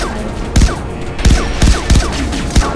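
Weapons fire in the Far Cry 3 Blood Dragon video game, a handful of loud heavy single shots spaced roughly half a second apart over a constant busy game backdrop.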